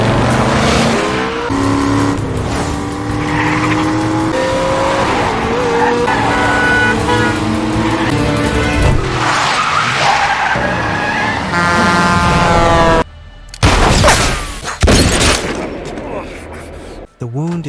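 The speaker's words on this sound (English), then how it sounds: "The driver drives away quickly, but he is surprised by the killer chasing him on the road." A car chase in a film: engines roar and tires skid loudly over a dense, dramatic soundtrack, with abrupt cuts and bursts of impact near the end.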